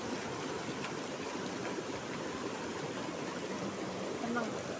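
Clear mountain stream in Berjo, Ngargoyoso, a continuous rushing burble of flowing water heard close and steady throughout, with no clear talk.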